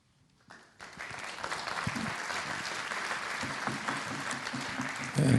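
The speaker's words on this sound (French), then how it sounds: "vous l'applaudissez cette fois-ci" Audience applause after a French lecture on Masonic rites, beginning with a few scattered claps, then swelling into steady sustained clapping from a moderately sized crowd in a hall.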